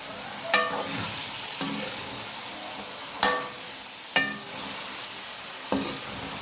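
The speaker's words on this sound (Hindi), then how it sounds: "गाजरें शामिल करके मैं इन तमाम सब्जियों को एक दफ़ा अच्छे तरीके से मिक्स कर दूँगी।" A spoon stirs carrots, potatoes and peas frying in a pan. A soft, steady sizzle runs underneath as the spoon knocks the pan a handful of times at uneven intervals, and no one speaks.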